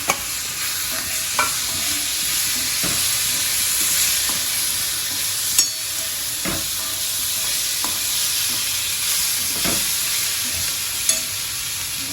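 Tomatoes sizzle in a pan of spiced oil with turmeric for veg pulao, a steady hiss of frying broken by sharp scrapes and knocks of a spoon stirring every couple of seconds.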